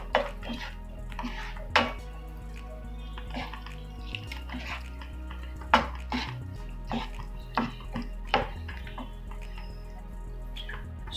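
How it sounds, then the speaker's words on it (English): Chicken breast and mushrooms in a creamy ginger-garlic sauce with low-fat fresh cream are mixed in a pan: irregular close clinks and scrapes of a utensil against the pan, with soft wet stirring between them and no talk. "Now just give this a nice mix."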